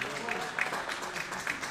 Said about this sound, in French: Agathe qui est surprise de se faire applaudir parce qu'elle récupère le ballon.